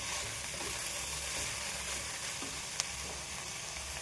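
Mushrooms fry in a pan for a Kannada-style mushroom palya, giving a steady, close sizzle with faint scraping and stirring and one sharp clink, without speech.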